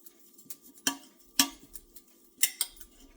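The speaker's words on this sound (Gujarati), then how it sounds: "એમાં હવે હું જરા તેલ લગાવી લઉં થાળીમાં" Steel thali plates are handled while being oiled for khaman. A few sharp metallic clinks and taps sound close by, separated by quiet gaps.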